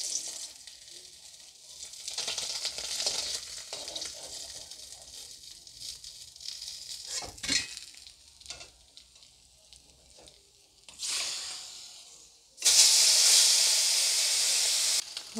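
Fish rubbed with salt and turmeric frying in oil in a kadai, a steady sizzle and hiss that swells and fades with stirring, then bursts into a loud, dense crackle near the end.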